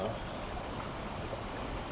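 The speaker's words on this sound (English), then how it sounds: "That's got running water." Steady broadband rush of running water from a shallow stream in a Florida Panhandle state forest, continuous and fairly even with no distinct splashes.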